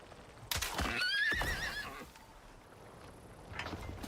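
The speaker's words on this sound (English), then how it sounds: "That's a baby horse we could tame." A baby horse in the video game Icarus gives a loud, wavering whinny up close, followed by a few soft hoof clops and quieter shuffling, with no talk.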